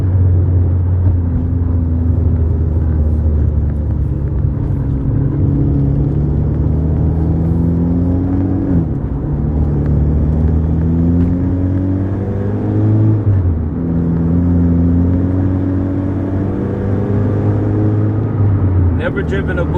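Boosted JDM car with paddle shifters, the engine revving up in repeated rising sweeps that drop with each quick gear change, loud and close inside the cabin while people talk over it.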